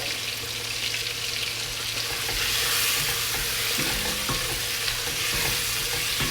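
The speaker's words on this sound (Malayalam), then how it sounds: "നന്നായിട്ടൊന്ന് മിക്സ് ആക്കുക അതിലേക്ക് നമ്മുടെ ഏലക്കായ പട്ട പൂവൊക്കെ ഇട്ട് കൊടുക്കുക" Cardamom, cinnamon and cloves are stirred in a hot pot of oil, giving a steady close sizzle with soft scraping from the stirring and no talk.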